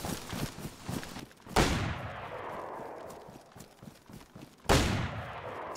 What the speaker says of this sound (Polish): Ty z kimś się strzelasz?